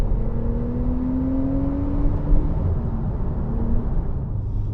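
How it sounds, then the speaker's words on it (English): A Porsche 991 Turbo S engine drones low and steady from inside the car while driving, a muffled rumble with a faint rising whine and no talking. "it's not Porsche's most engaging or most enthralling soundtrack in terms of engine noise"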